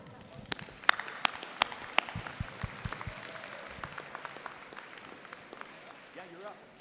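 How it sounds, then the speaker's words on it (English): Delegates at a Wyoming Republican convention applaud a speaker, with a few sharp close claps standing out over a thinner, fairly quiet spread of clapping across the room. "please give a big round of applause here for Robert Short"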